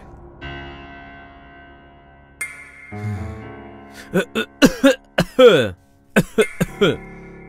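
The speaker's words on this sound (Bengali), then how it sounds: "ওই একটু কাশি আসছে" A man in a Bengali crime drama scene coughs in a run of short, sharp bursts, close and fairly loud, after a stretch of steady tonal background sound.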